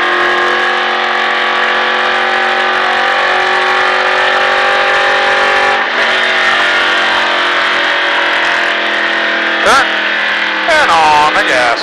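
A NASCAR race car engine screams loud and steady on track at the Richard Petty NASCAR Experience, holding a high strained tone and shifting pitch as it accelerates, with a voice talking over it near the end.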